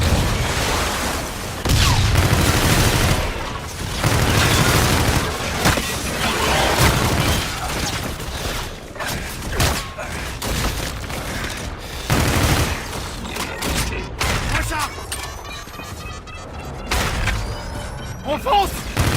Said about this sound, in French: Lancez des grenades sur les robots!